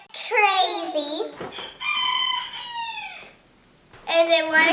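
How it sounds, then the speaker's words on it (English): Pet chickens clucking and a rooster crowing nearby in loud, drawn-out bursts, with a short pause before another crow, close and clear. "you might hear my pet chickens"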